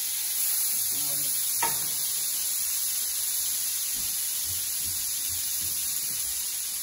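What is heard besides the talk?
butter sizzling in a hot frying pan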